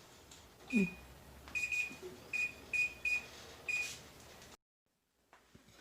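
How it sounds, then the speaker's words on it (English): An oven timer gives a series of short electronic beeps at a steady pace, faint against a quiet room, followed by silence. "It beeped."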